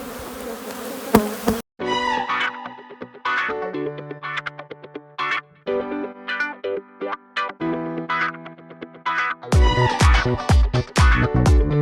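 Honeybees swarm and buzz around an open hive while frames are being inspected: many overlapping, close buzzes of shifting pitch, preceded by a brief rough handling noise and swelling into a louder, denser burst near the end.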